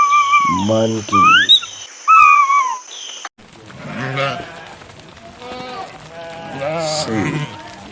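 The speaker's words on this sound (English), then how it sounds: "sheep" Sheep bleat repeatedly in wavering, nasal cries, several overlapping calls close by and loud, following a few higher rising calls at the start.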